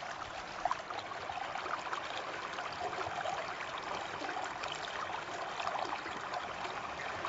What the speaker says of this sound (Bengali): সত্যি অসাধারণ লেগেছিল ঝর্ণার সেই কল কল শব্দ